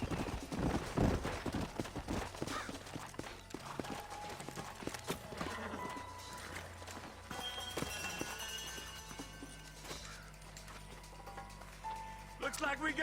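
Hooves clip-clop rapidly as horses gallop in the video game Red Dead Redemption, over a busy game soundtrack, with a horse whinnying, music and voices mixed in, fairly quiet and distant.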